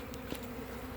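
A swarm of honey bees gathered near a hive, giving a faint continuous buzzing hum for about a second with no voices.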